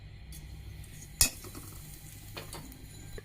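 Black cumin seeds dropped into hot mustard oil, giving a faint steady sizzle in a pan with one sharp clink of a utensil, near and quiet without talk.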